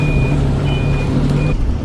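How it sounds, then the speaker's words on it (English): A bus reverses along a country lane, its warning beeper sounding in repeated long tones over a loud, steady engine idle. "the bus has had to reverse back for 5 minutes"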